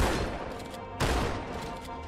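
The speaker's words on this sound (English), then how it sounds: "Oh, sweet, I got my shotgun back." A shotgun blast in Halo 2 Anniversary: one sharp, loud report lands near the middle, rising out of a dense, steady wash of battle noise.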